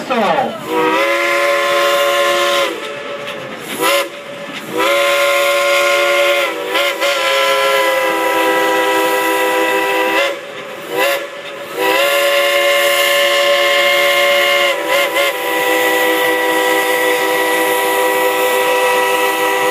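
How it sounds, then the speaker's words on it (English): A Baldwin steam locomotive's whistle plays a tune, loud and near, in a series of sustained chime blasts separated by short breaks, with hissing steam between notes. "Would you like to hear the engineer play a tune on that Baldwin steam locomotive whistle?"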